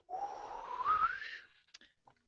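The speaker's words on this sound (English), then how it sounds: "I'm trying to teach my son how to whistle," A person whistles a single rising tone that holds steady for about a second and a half, then stops, leaving a few faint clicks and small noises afterward.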